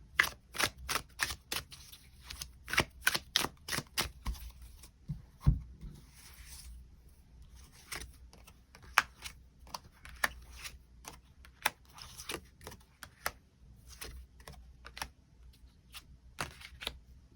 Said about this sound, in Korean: 추가 카드로 이 상대방이 어떤 특징을 가진 사람일지 뽑아보고 언제쯤 우리 두 사람의 만남이 이루어질지 추가 카드 뽑아보도록 하겠습니다